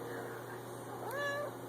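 A single rising, drawn-out cat meow heard clearly near the end, after a stretch of quiet room tone.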